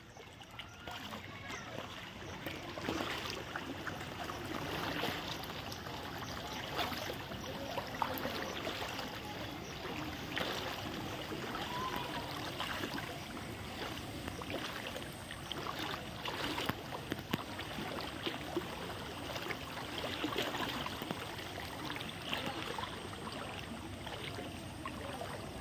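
Floodwater pouring into a house and temple, a continuous low rushing and splashing flow heard fairly faintly throughout, with a person talking over it.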